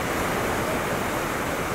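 Waves on a beach of the Cantabrian Sea at Santander, heard as a steady, loud, broadband wash of surf with some wind, continuous and without voices.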